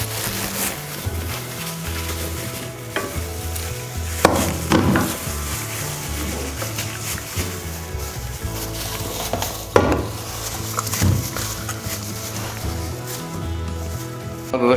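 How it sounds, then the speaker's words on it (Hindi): Fish pieces are stirred and mixed into a yogurt masala marinade, giving steady wet squelching and soft scraping against a bowl, with a few louder clinks and knocks, close and continuous with no talking. "अब इसमें डालते हैं मछली के पीसेस।"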